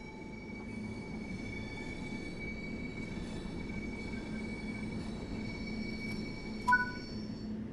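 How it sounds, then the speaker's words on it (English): A British Rail Class 90 four-axle electric locomotive from a train simulator game runs steadily with a continuous low rumble and faint electric whine, joined near the end by a brief high squeal. "the British Rail Class 90 is a 4-axle electric locomotive used primarily for freight operations"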